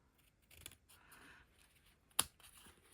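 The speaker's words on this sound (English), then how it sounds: "I'm just going to cut this at an angle" Paper being snipped with scissors during a stamped bag-and-tag craft project with Regal Flora stamps, a quiet scattering of small cuts ending in one sharp, distinct snip.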